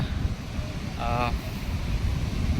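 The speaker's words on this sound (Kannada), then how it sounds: "ಆ್ಯಂಡ್ ತುಂಬ ಗಾಳಿ ಇದೆ, ಸಖತ್ ಗಾಳಿ ಇದೆ" Steady wind roars and buffets the microphone outdoors at Malpe beach, with a low rumble of surf underneath and a brief faint voice in the middle.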